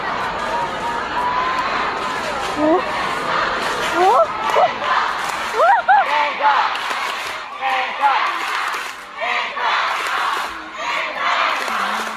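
A packed stadium concert crowd in Macau chants and screams a singer's name, a dense continuous roar with rhythmic shouted calls rising over the noise throughout.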